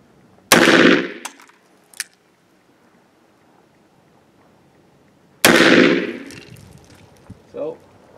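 Two loud, close Smith & Wesson 629 .44 Magnum revolver shots fired outdoors several seconds apart, each a sharp crack with a long decaying boom, followed by faint clicks and small handling noises.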